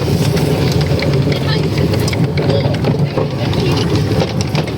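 A tractor engine drones steadily while riding on a trailer it is pulling, a constant low rumble with rattling under loud talk.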